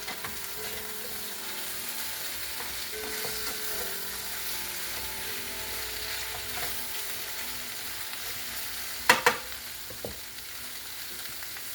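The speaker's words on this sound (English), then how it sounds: "I'm going to put my onions in now. Put in a half an onion. And I'm going to stir that around." Half an onion sizzles in a hot pan on a steady frying hiss while it is stirred around. Scraping stirring sounds come and go, and two sharp knocks land near the end.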